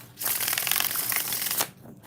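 A deck of tarot cards is riffle-shuffled close by, a steady rapid flutter of flicking cards lasting about a second and a half, ending in a sharp snap, with no talking.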